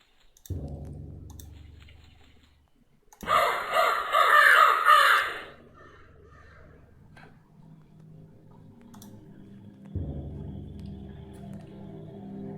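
A crow caws loudly in the video game Cube Escape: Paradox, a short harsh burst in the middle set between stretches of low game ambience and clicking.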